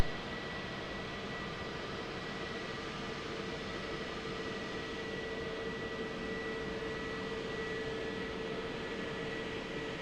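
A Ryanair airliner taking off at Lisbon Airport, heard as a steady, sustained broadband engine roar with a faint whine, fairly distant and unchanging throughout.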